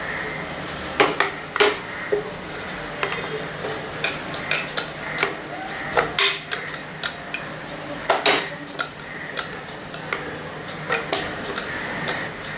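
Wheat flour dough for methi paneer paratha rolled out with a rolling pin, producing a steady series of light taps and knocks on the board, close and moderately loud.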